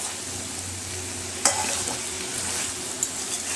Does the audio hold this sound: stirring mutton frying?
yes